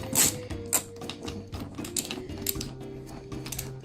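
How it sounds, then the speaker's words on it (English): Screws are loosened on a Soleus air conditioner housing, giving soft irregular clicks and scraping close by. The sound is faint, with a faint low hum underneath throughout. "Lefty loosey, so you want to make sure you're loosening them."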